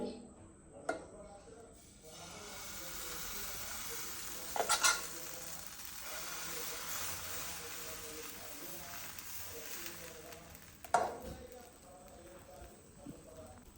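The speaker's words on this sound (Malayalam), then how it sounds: "പിന്നെ നമുക്ക് ദോശ ഉണ്ടാക്കേ പേനൊക്കെ ചൂടായി" Oats dosa batter cooking on a hot pan gives a steady, moderate sizzle, broken by a few metallic clanks and scrapes of a spatula at intervals.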